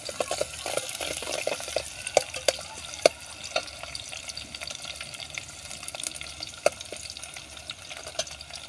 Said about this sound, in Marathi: आता तेलामध्ये कांदा चांगला शिजत आहे